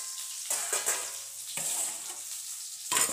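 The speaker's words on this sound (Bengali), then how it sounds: "আর লাউয়ের আলুটা ভাজছি কড়াইয়ে" Potato for a bottle gourd dish fries in a kadai, giving a steady, close sizzle broken by several louder scraping bursts as it is stirred; no one speaks.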